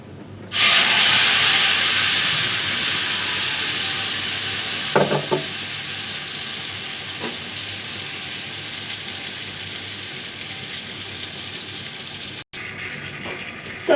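Ripe mango tipped into a hot pan already holding whole cumin and a piece of cinnamon, setting off a sudden loud hissing sizzle that holds steady and slowly eases, with a few stirring knocks and a brief break near the end.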